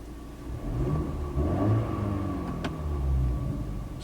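Exhaust of a 2019 BMW 330i in comfort driving mode, a steady moderate engine rumble heard from inside the car, with a brief sharp click near the end.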